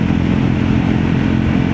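Triumph Scrambler 400X motorcycle being ridden, a loud steady engine drone with rough mid-range rumble, close and continuous.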